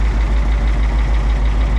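A Caterpillar 3208 diesel engine idles just after starting up, a steady low rumble with an even, pulsing beat, close and loud with no voices.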